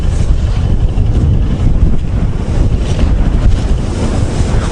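Wind buffets a microphone during a ride, giving a loud, continuous low rumble and roar with gusty surges and no clear breaks.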